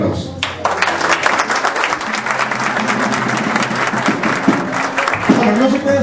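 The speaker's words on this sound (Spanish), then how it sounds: "Este aplauso." Audience applause at the inauguration of a music group in Moquegua, loud and sustained, with a voice and some tonal sound running underneath the clapping.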